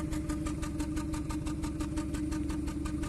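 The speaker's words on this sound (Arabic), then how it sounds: "عرفنا التفتفة اللي عندنا في السيارة من السلندر الأول، تفتفة من السلندر الأول بدون قراءة عطل" A 2014 Kia Cerato engine idling rough with a misfire on the first cylinder, giving a steady, even putter of repeated knocks close up, no voices.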